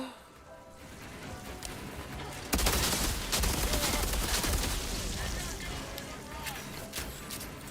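Gunfire from a shotgun and an assault rifle in the video game Outriders erupts into a dense, sustained volley midway through, loud and continuous after a quieter, rumbling start.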